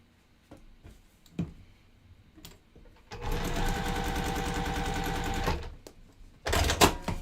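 A sewing machine stitches quilt block seams in a steady whirring run of a couple of seconds, preceded by small clicks and handling noises and followed by a loud shuffle of fabric.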